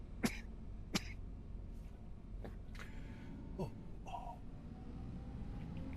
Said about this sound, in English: I'm gonna have a coughing jerk